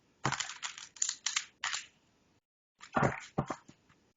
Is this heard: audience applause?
no